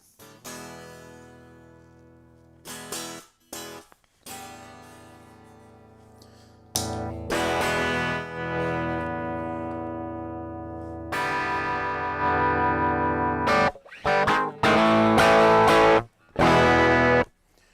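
An electric guitar plays through a NUX Mighty Lite BT MK2 amp with reverb, sounding in ringing, bell-like chords and bursts of distorted strums separated by sharp silent stops.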